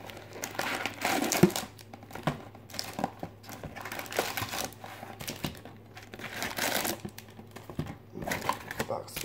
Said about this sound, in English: I'll pull all the packs out